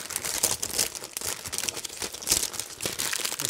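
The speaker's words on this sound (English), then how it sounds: "let's unwrap this keyboard and take a look." Plastic packaging crinkles and crumples as a NuPhy Halo 96 wireless mechanical keyboard is unwrapped, a close, continuous rustle with small tearing bursts and no talking.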